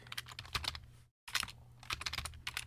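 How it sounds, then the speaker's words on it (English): Someone typing an address on a computer keyboard, a quick run of close, crisp keystrokes broken by a short pause, then resuming in irregular bursts. "Let me type that in right now."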